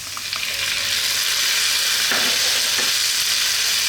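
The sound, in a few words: stirring chopped tomato into frying cumin potatoes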